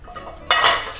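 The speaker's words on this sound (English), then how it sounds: "When you hear that sizzle, we're ready to go." Ground sirloin steak hits a hot sauté pan coated with extra virgin olive oil: a brief light clatter, then a sudden loud, broad sizzle that holds steady and slowly eases, with no talking.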